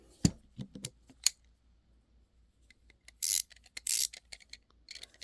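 A large VIM dual drive flex ratcheting wrench is worked in short bursts, giving a few bright, loud clicking ratchet runs after some scattered handling knocks in an otherwise quiet room.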